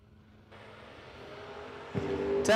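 Drag race cars launching at a bracket racing event, including a first-generation Chevrolet Camaro; distant engine drone rises into a louder roar as the cars pull away.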